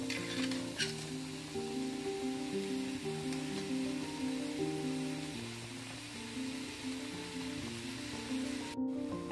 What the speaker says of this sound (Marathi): आता हे चिकन शिजत आलंय